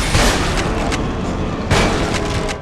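Shotgun blasts in the game Resistance 2, two loud booming shots with a broad, washed-out roar between them.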